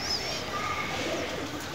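Fancy pigeons, a pure Ferozpuri male and a Chinese female, coo softly over a steady background hiss, with a few faint calls rising and falling through a short stretch.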